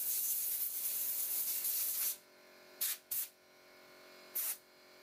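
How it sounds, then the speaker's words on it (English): A can of compressed air hisses into the hose of a Xiaomi Mi Mop Essential robot mop, first a long steady spray, then three short sharp bursts, close and alone. "I want to push some compressed air inside it in case there's something stuck inside"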